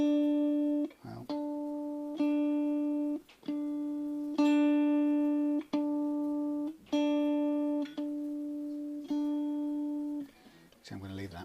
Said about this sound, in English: you'll tune a guitar up on the open strings